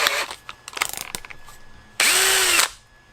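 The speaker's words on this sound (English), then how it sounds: "we'll go ahead and get our 1/4 inch drill bit and get our drill" A power drill fitted with a 1/4 inch bit whirs in a few short stop-start bursts, then runs in one steady, louder spin before stopping, all close by with no talk.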